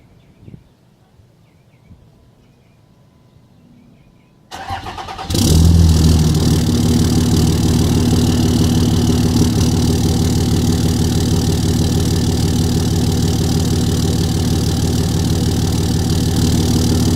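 A 2006 Cummins diesel truck engine cranks and fires after a few quiet seconds, then settles into a loud, steady, rattling idle up close, with no talk over it.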